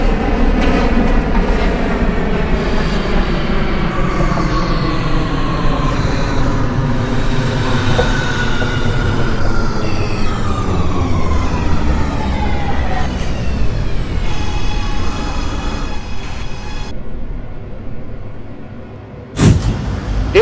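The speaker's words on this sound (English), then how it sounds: "This is a Euclid Avenue bound C local train." A New York subway C local train, an R211T in a train simulator game, rumbles and whines as it runs, pitch sliding down while it slows, then a sharp clunk near the end.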